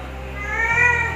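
A single short kitten meow rises out of a low steady hum with faint background music in a home kitchen.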